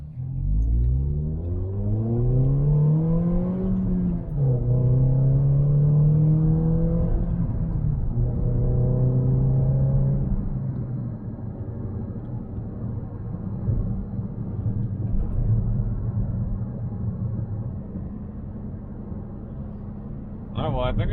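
A Toyota Corolla on a test drive, its engine revving up through gears with rising and falling pitch, then settling into a steady cruising hum and road rumble, fairly close and continuous.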